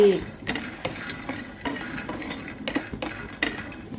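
A spatula scrapes and stirs flax seeds dry-roasting in a metal pan for a moringa leaf spice powder, with repeated close clinks and scrapes in an irregular rhythm and a faint sizzle beneath, no talking.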